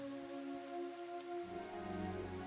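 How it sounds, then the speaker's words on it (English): Steady rainfall in the farming and fishing video game Echoes of the Plum Grove, a continuous soft hiss of drops on surfaces with a faint tonal music bed underneath, no talk. "It's raining."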